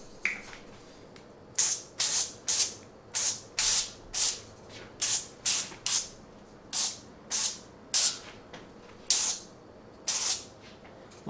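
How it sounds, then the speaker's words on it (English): Cooking oil sprayed lightly from a spray can onto cauliflower tater tots, about fifteen short hissing bursts in an uneven rhythm, close and fairly crisp against a quiet background. "I'm going to spray this on the top of them very lightly."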